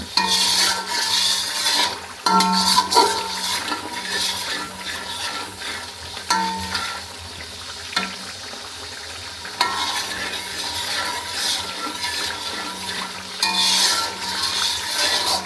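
Spice paste with dried red chillies stir-fried in a pan, a steady close sizzle with scraping spatula strokes and occasional metallic clinks, continuous throughout without talk.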